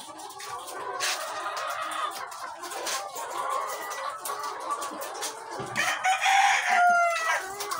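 Egg-laying chickens cluck and chatter around a farm coop while a rooster crows loudly near the end, a steady, close flock sound with no talking.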